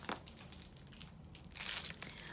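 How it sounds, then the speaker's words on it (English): A clear 6x9 plastic resealable bag crinkles in short, quiet bursts, with a louder rustle near the end and no talking. "This is a 6x9 clear resealable bag."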